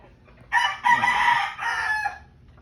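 A single rooster crows nearby, a loud drawn-out cock-a-doodle-doo lasting about two seconds against a quiet background.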